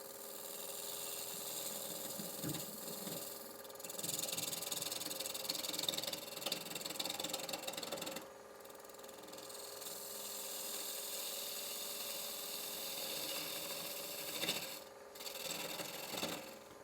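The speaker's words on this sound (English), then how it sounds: "Peeling cut is one of the most useful skew chisel cuts" A skew chisel takes a peeling cut on spinning wood on a lathe while making a lidded box, giving a steady close hiss with a rasp over the running machine hum, broken by brief pauses.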